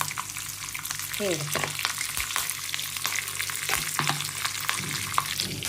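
Cumin seeds fry in a pot of hot oil for one-pot vegetable rice, giving a continuous close crackling sizzle with occasional sharp pops and light stirring clinks.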